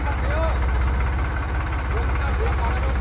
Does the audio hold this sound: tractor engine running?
yes